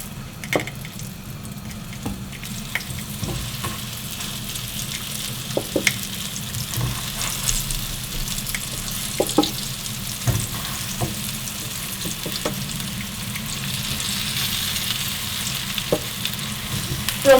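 Eggplant slices pan-fry in a generous amount of olive oil, giving a steady close sizzle that lasts throughout, with occasional small pops and clicks of utensils against the pan.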